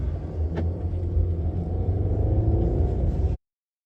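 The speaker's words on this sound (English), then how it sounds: "There's a car coming." A car engine rumbles steadily as a vehicle approaches along a road, growing slightly louder before cutting off abruptly.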